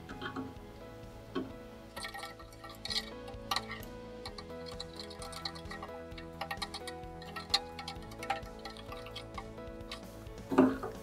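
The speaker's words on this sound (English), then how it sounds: "Now just stir it while it cools off." Molten tin being stirred as it cools into a slushy powder, made from ingots; steady faint scraping and small ticking clicks run throughout at low level, with a louder knock near the end.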